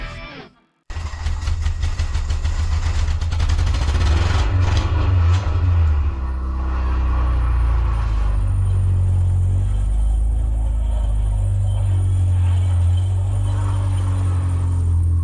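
A car engine with a worn bearing and a noisy clutch starts up and runs loud and close, a deep steady rumble with a faint whine and rattle layered on top, no talking.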